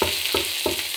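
Vegetables and shrimp stir-fry in a hot pan with loud, continuous sizzling and crackling, punctuated by three rhythmic scraping tosses, close up with no talking.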